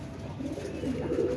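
Soft, low pigeon cooing from a heavy-bodied desi pigeon, a steady murmuring coo that carries through the whole short stretch at a moderate distance with no talk over it.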